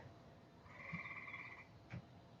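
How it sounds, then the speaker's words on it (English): A frog croaking outdoors, a distinct throaty, buzzing call lasting about a second, framed by two soft low thuds, fairly faint against a quiet background. "I hear a frog."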